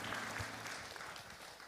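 A church congregation applauds during a Sunday worship service, a dense, steady wash of many hands clapping together, fairly loud and continuous throughout with no talking.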